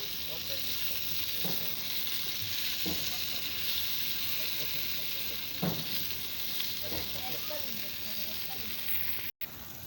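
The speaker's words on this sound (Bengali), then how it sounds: "বেগুনগুলো ভাজিয়ে তারপর শাকটা রান্না করব।" Eggplant pieces frying in a wok, a steady soft sizzle with occasional louder crackles and stirring scrapes, fairly close and without talk.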